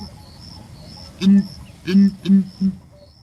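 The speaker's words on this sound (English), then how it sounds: "Now that is the sound of a room TD." A room TD bird from East Africa calls in several short, loud, nasal bursts, one then a quick cluster of three, over a steady high insect-like hiss and faint background noise.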